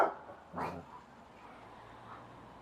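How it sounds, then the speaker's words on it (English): A dog walking past a garden gives two short, muffled barks in quick succession, fairly faint and at a distance, followed by quiet outdoor background. "That was another dog walking past the garden."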